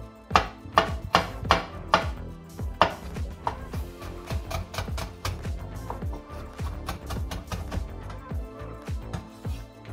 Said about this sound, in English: Finally chop it.